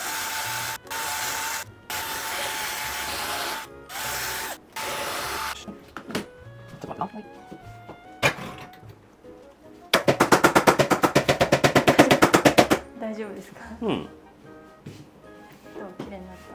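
A drill bit is swapped for a thicker one and bores hardened glue out of a golf club shaft during a home shaft replacement, giving loud bursts of rapid rattling whir with a long sustained run near the end and quieter handling noises between.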